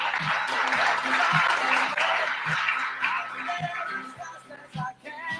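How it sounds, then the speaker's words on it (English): An audience at a signing-day event applauds Joseph Ryan with steady, dense clapping, joined by a repeating low thump in the background, before the clapping gradually thins out. "Let's give Joseph a round of applause."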